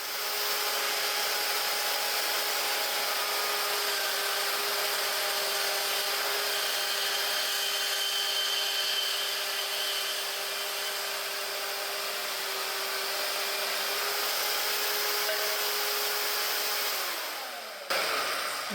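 Abrasive cutoff wheel slicing through metal for a welding table, a steady loud high-pitched grinding whine held for about seventeen seconds before spinning down at the end, with no talking.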